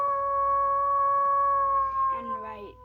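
A person's voice imitates a wolf howl, a sustained wavering tone that rises, holds steady for a couple of seconds, then slides and breaks at the end, loud and close with no other sounds.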